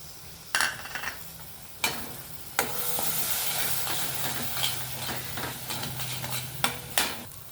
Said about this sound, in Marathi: आता आपण एक मीडियम साईजचा पिकलेला टोमॅटो पेस्ट करून घेतली ती टाकूया